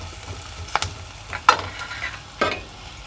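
Small bitter gourd frying with onions in a pan, stirred with a utensil: a soft steady sizzle under three or four sharp scraping stirs, close and clear, with no talking.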